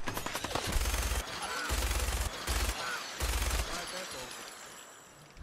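Gunfire in Fallout 4 rattles out as sustained rapid automatic bursts, loud and close, broken by brief pauses, with a faint voice now and then.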